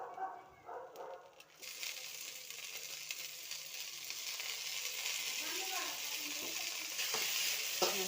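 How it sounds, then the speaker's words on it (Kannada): Food frying in a spoonful of oil in a pan, a soft sizzle that swells after a quiet start and holds steady with light stirring scrapes, close by; a dog barks faintly early on. "ನೋಡಿ, ಚೆನ್ನಾಗಿ ಫ್ರೈ ಮಾಡಬೇಕು"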